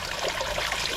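Cool spring water trickles and splashes steadily near a cave on Yonaguni Island, Okinawa, a close, continuous bubbling wash with no voices.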